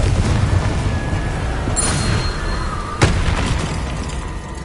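The Confringo blasting spell going off in Hogwarts Legacy gameplay, a dense rumbling blast bed with a sharp burst near the middle and a fizzing magical whine, no talk over it.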